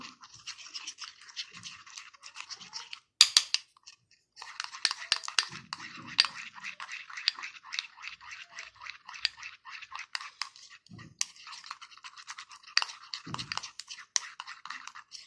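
A spoon stirs a homemade hand and foot whitening paste in a small bowl, making a steady run of close scraping and light clinking strokes with a few brief pauses.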